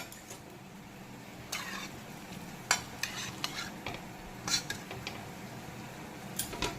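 A slotted spoon scrapes and clinks against a pot as whole spices and bay leaves are strained from chicken stock, with several separate metallic taps over a faint background simmer.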